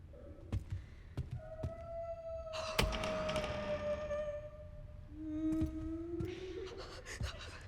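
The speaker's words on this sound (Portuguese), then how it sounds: "E agora eu vou abrir a porta." A door creaks open in the video game Resident Evil Requiem on Nintendo Switch 2, with long drawn-out groaning hinge tones, soft thunks and taps, and a second creak toward the end, all moderately close.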